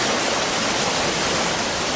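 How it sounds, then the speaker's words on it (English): Torrents of water thunder down valleys in the Andes, a dense, loud, continuous roar of rushing water, steady and unbroken throughout. "send over 200 billion metric tons of water thundering down the valleys"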